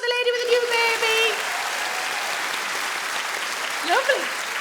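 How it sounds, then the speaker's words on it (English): Comedy club audience applauding a woman with a new baby at a stand-up show, a dense, steady wave of clapping that briefly overlaps speech at the start and carries on with faint voices. "Round of applause for the lady with the new baby."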